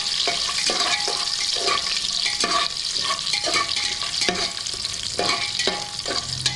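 Cashew nuts fry in ghee for ghee rice. A bright, continuous sizzle is broken by regular scraping strokes of a spoon against the pan, roughly every half second, with no talking.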